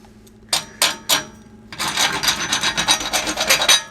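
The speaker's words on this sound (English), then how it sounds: "Well, you know what, let's just file it down quick as well." A file rasps against a threaded knife blade, squaring and chamfering the edge: three short separate strokes, then a faster run of close, bright, scraping strokes in quick rhythm, loud and near with no talk.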